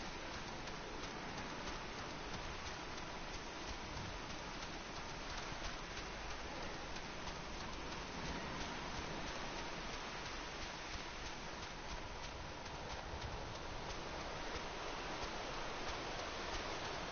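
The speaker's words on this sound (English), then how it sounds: "It would be raining." Rain falling in Final Fantasy XIV, a steady dense hiss of drops continuing evenly with no breaks and no talk, heard at a moderate, fairly soft level.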